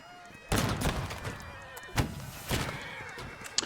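Horse in the Holdfast: Nations at War video game whinnying after being shot, a loud close neigh followed by several heavy thuds and thumps.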